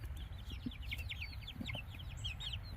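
Wyandotte chickens cluck softly nearby, with a series of quick, faint chirping calls running throughout over a low background rumble.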